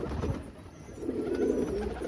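Pigeons give a soft low cooing call, a brief murmur near the end over faint rustling, with no talking.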